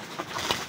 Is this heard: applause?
no